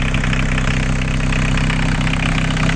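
A 1.7-litre Isuzu diesel engine taken from an Opel Combo idles steadily and loudly, giving an even low rumble that holds throughout with no voices.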